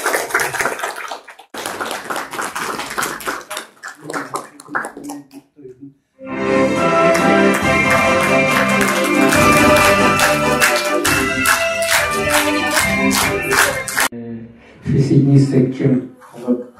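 A hall audience breaks into dense, sustained clapping for several seconds after a performance by a string ensemble, with a speaking voice before it and again at the end.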